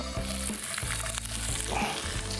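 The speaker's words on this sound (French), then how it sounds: "Fait que là, je viens mettre mon bacon" Bacon hits browned, foaming butter in a hot pan and sizzles loudly and steadily, with brief clatter and scraping mixed in over a couple of seconds.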